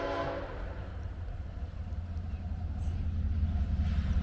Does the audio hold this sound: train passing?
yes